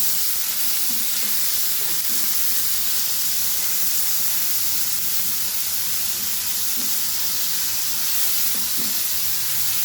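A tomato frying in a pan with garlic and lentils gives a loud, continuous sizzle and hiss, with faint stirring knocks throughout.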